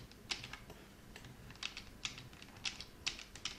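Computer keyboard keys are pressed for a Ctrl+Z undo, giving a run of crisp, close clicks in short, repeated bursts against a quiet background.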